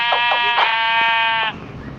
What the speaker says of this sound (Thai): เราไปทำร้ายแกะก่อนดีกว่าก่อนที่มันจะมืดนะคะทุกคน